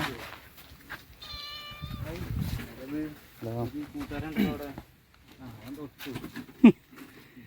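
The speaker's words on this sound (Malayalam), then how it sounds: "പൂച്ച കണ്ടില്ലേ" A cat at a hillside tea spot in Idukki gives a few short meows amid people chatting nearby, the cries brief and mid-loud between stretches of talk.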